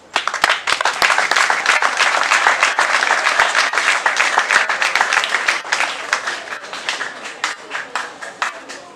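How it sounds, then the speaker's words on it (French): A school event audience applauds the teaching staff with dense, sustained clapping that stays loud and steady throughout, with a few sharper individual claps standing out near the start. "Je vous demande d'applaudir pour le corps professoral"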